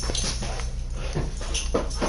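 A dog in the Minecraft video game whimpers and yips in short, close, repeated cries over a constant low background hum.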